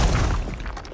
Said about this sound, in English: a rock impact large by Boom Library it's called.